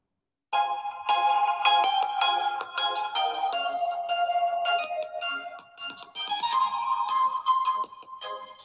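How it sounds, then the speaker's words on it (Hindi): An Infinix Note 50 phone ringtone plays a bright electronic melody for several seconds, loud and clear, with no voices. "ये इसकी साउंड आ गई, रिंगटोन्स।"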